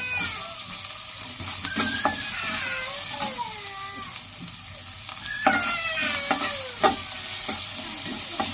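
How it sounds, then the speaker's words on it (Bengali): Onions fry in oil with a steady loud sizzle and occasional stirring scrapes, with no talking over it. "পেঁয়াজটা লাল লাল করে ভেজে নেব।"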